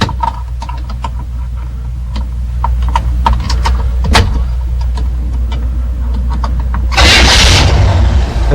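A car engine cranks and catches after a GM ignition gear is turned with needle-nose pliers, giving a steady low idle rumble with a burst of louder roar near the end.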